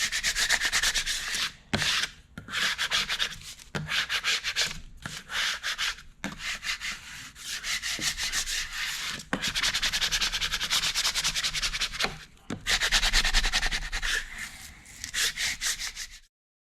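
A squeegee rubs and scrapes across a carbon fiber sheet in long repeated strokes with short pauses between passes, close and fairly loud, with no talking.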